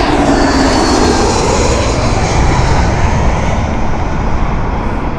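Loud, broad roar of a Finnair jet airliner's engines passing close overhead on approach to land at Heathrow Airport, steady and rumbling throughout.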